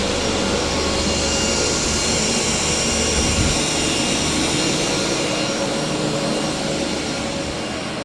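Two 20-inch three-speed fans blow air in a crypto mining room, giving a loud, steady, broadband roar of rushing air with an even hum underneath that holds unchanged throughout, with no voices.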